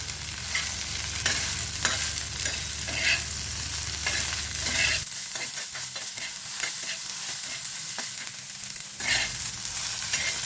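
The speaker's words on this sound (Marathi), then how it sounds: "तुम्ही बघू शकताय की अशा पद्धतीने भेंडी भाजायची" Okra (bhindi) frying in a pan while being stirred, a continuous close sizzle with repeated scraping and clattering strokes and a low hum that drops away midway.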